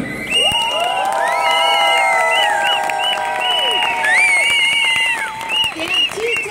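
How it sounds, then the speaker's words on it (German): A crowd at an anti-TTIP street demonstration in Berlin cheers and claps in a sustained roar, with piercing whistles sweeping up and down repeatedly over the noise. "wir sollten das mit einem großen Applaus hier würdigen"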